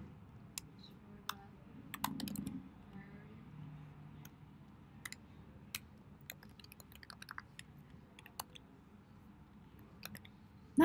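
Computer keyboard typing, light irregular key clicks spread across the whole stretch, a few louder taps among softer ones, close by over a faint background hum.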